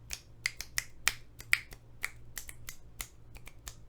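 Sharp snap-like taps played as a 3/2 polyrhythm in a quarter-note-triplet groove, a steady interlocking pattern of crisp clicks over a low hum, close and clear.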